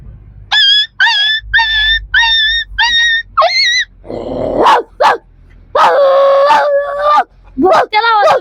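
A person's voice imitates a dog barking, loud and close: a run of six even, high yips, then rougher, longer bark-like calls with short gaps.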